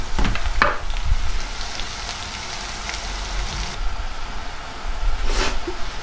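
Spice tempering sizzles in hot oil, a steady crackling hiss with a few louder bursts at the start and near the end, heard alone with no talk.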